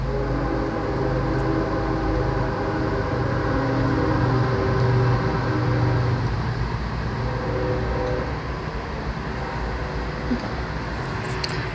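Train rumbling past outside, a steady low roar with rail clatter filling the whole stretch, loud and continuous with no voices over it.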